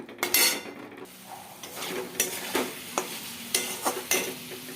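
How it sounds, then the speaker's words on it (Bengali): A spoon scrapes and stirs a pan of curry masala with chili powder, turmeric, a little water, tomato and salt for a koi fish dish. A series of close, sharp scraping strokes sounds over a soft sizzle, with no talking. "অল্প জল, টমেটো, নুন, এবার নাড়িয়ে নেব।"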